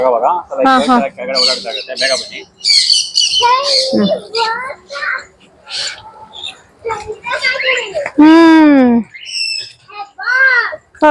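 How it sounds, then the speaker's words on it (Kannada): An assortment of birds at a zoo squawk and call in loud, irregular bursts, mixed with excited talk from children and adults nearby. "variety of birds"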